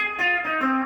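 Electric guitar, a Strat or Tele, played through a CH1 chorus pedal, a few sustained shimmering notes with a wavering, watery 12-string-like tone, close and clean with no talking.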